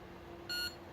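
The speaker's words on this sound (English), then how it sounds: "holding it until you hear a second beep" A single short electronic beep from the activation button of a Bedlam's Bard "Blind Knight" lightsaber, a clean high tone lasting a fraction of a second over faint background hiss.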